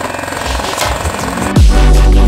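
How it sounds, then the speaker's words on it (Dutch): A small outboard motor on a four-metre duct tape boat sputters, then catches and settles into a loud, steady running drone, preceded by rattling and clattering close by. "Jongens, de motor wil niet recht starten."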